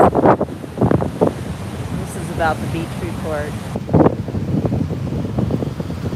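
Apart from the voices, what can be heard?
wind blowing into microphone at beach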